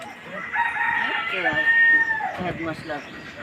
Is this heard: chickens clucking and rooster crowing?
yes